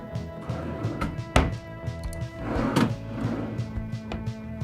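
Dresser drawers in a Las Vegas Excalibur hotel room being pulled open and shut, producing a sharp wooden thunk followed by a scraping slide, over a steady humming background.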